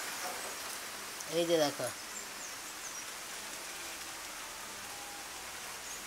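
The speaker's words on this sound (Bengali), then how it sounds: "দেখো কি বৃষ্টি হচ্ছে, চলো বৃষ্টি দেখাই তোমাকে।" Rain falls steadily in a soft, even hiss heard from indoors, quiet and continuous, with a person briefly speaking near the start.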